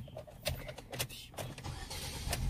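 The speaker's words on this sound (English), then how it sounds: "Now start the car with the keys." A 2018 Ford Escort engine cranks and starts with the key, a short burst of starter whirring and catching, close and moderately loud, followed by steady running.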